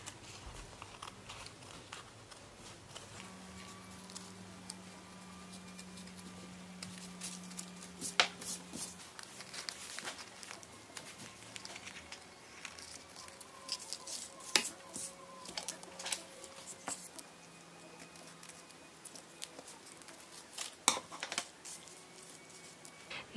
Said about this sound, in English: Now the next step is to cut out your traced circles.